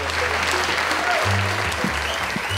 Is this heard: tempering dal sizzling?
no